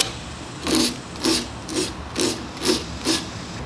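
Six even, rhythmic rasping strokes of 100 grit sandpaper rub over the corner of a wooden shadow box frame, close and clear, with no talking.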